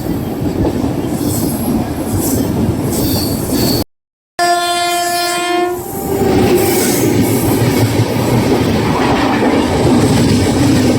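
Kerala Express, a 12626 sleeper-class train, rolls into Coimbatore Junction with a loud, steady rumble of wheels and carriages, a long sounding of the horn midway, then continued heavy rolling noise close by.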